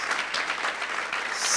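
A church congregation claps loudly during a service, a thick, continuous burst of applause filling the whole moment.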